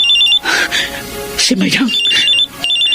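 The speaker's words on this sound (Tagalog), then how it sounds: "May tumatawag sa cellphone." A mobile phone rings with an incoming call, a repeating electronic trill that sounds twice in short bursts. A voice speaks over and between the rings.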